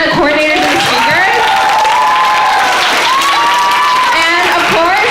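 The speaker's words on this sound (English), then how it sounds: "I wanted to give a round of applause to all the event coordinators and speakers." Audience applause and cheering at a school TED-Ed club event, a steady wash of clapping with whoops and shouts layered over it, loud and continuous throughout.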